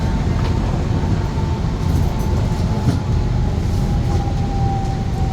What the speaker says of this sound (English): can't pass up the chance to take a train